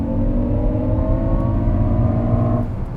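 Inside a 2019 Jaguar I-Pace electric car under hard acceleration, a steady low electric whir and road rumble fill the cabin, with rising tonal hums and no voices.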